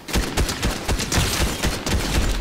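Gunfire in Fortnite, a quick string of dense, overlapping shots crackling steadily throughout a short burst of play.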